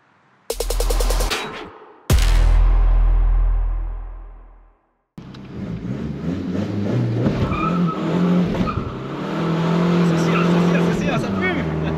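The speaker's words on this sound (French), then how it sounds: "Allons faire un tour dans ton bolide." A Volkswagen Golf 7 2.0 TDI with stage 3 tuning revs hard in short loud bursts, then pulls away with a sustained, strained engine roar and tire noise, loud and close throughout.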